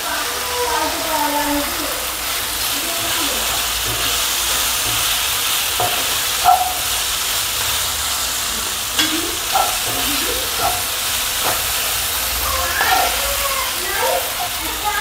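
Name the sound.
garlic, coconut and sesame frying in oil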